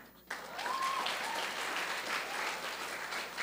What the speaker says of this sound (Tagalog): Kung pumalakpak mo kayo, sabay-sabay.